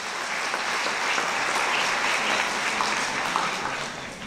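An audience at the Gala Młodych Nieprzeciętnych in Mielec gives a steady, sustained round of applause, a dense even clapping that fills the whole four seconds without talk.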